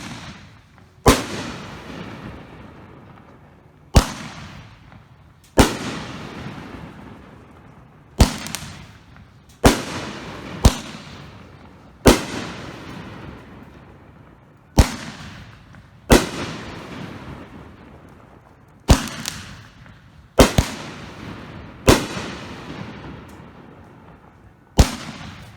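Firehawk Beast consumer fireworks barrage going off in a rapid series of about fifteen sharp, loud bursts with crackling decay between them, no voices.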